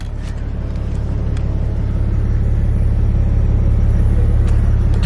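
A 2003 BMW 330Ci engine idles steadily just after startup, a loud, close, even low rumble with no voices over it.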